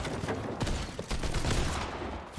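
Rapid gunfire from a Fortnite match during a competitive LAN finals watch party, a dense fusillade of repeated shots filling the whole stretch at steady loudness, with no talk over it.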